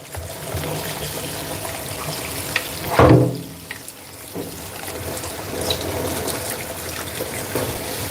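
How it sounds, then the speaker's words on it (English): Dishes being rinsed under a running kitchen tap, a steady hiss of flowing water with a louder splashing surge midway as a dish passes under the stream, no talking. "I love doing dishes with whole plant food because you can just basically rinse them off."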